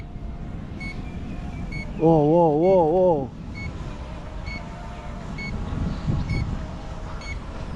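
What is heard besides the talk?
drone beeping when returning home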